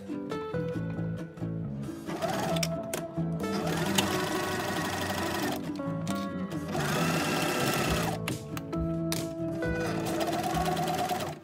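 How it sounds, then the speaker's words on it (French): A sewing machine stitches fabric for a flat plush rabbit's ears, running in steady continuous bursts with a brief pause, its close mechanical whir filling the clip over a faint background melody. "faites une couture à moins d'un demi-centimètre du bord, en laissant toujours l'ouverture du bas"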